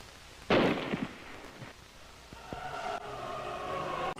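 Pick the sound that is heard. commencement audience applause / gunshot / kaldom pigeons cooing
gunshot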